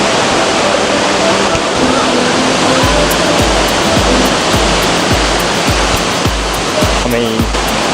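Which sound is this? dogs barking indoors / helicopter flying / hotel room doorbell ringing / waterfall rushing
waterfall rushing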